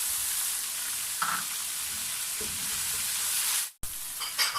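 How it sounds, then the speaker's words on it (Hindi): Tomato paste masala sizzles and fries in hot oil for a lobia (red kidney bean) curry, a steady close hiss with a few stirring scrapes, briefly cut off near the end, no talk. "ऑयल अलग हो गया है और मसाला अच्छी तरह भून चुका है।"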